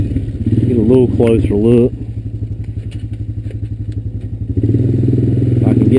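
A Honda Recon ES ATV engine rumbles while riding through dry, sandy ground, a close loud low throbbing that eases slightly to a steady idle-like putter then rises again, with someone talking over the start.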